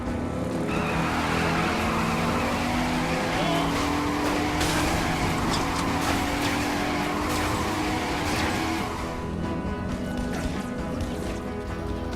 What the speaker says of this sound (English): If you hold down your handbrake, you can pull off stunts like this.